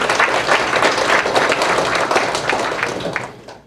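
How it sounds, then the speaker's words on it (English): An audience claps steadily at an Eid celebration, a dense round of applause that holds for several seconds before fading out at the end. "I think they deserve a round of applause."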